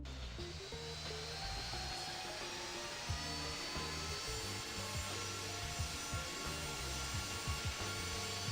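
Simulated Boeing 737 MAX jet engines power up for takeoff in Infinite Flight, a steady, loud roar with a high whine on top, holding constant throughout.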